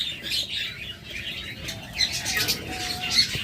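Caged pet lovebirds, cockatiels and budgerigars chirping and squawking nearby, with brief shrill calls and a flutter of wings in a short burst of chatter.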